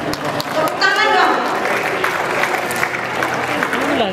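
Applause for a cover song contest winner, clapping mixed with someone talking over it and some crowd noise, fairly loud and close throughout.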